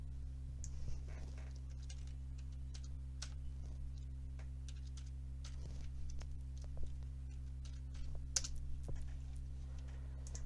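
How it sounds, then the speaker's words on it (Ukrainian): Quiet, irregular clicks of a computer keyboard as C++ program code is typed, soft and close over a faint steady electrical hum, with brief pauses between bursts of keystrokes. "І набираємо текст програми."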